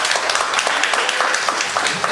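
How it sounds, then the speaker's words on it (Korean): A church congregation applauding middle school students after a youth worship service, a short burst of steady, dense clapping from many hands in a room. "우리 중3 언니, 오빠, 형, 동생을 위하여 함께 박수 쳐줄까요?"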